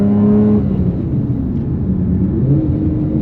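Engine of a 1999 Nissan R34 GTR V-Spec while driving: a steady, loud droning hum with strong low harmonics that shifts pitch slightly as it pulls, with no speech.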